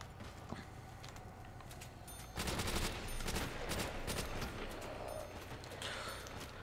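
Thompson submachine gun fire in Call of Duty World at War zombies on Nacht der Untoten, a sustained rattling stream of rapid shots that swells midway and runs on under game noise.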